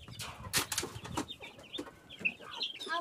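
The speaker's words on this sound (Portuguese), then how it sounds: "coloca milho para as galinhas, Dieguinho." Farmyard chickens cluck and chatter while being fed corn on a rural smallholding, a busy close-up mix of short clucks and squawks with faint rustling.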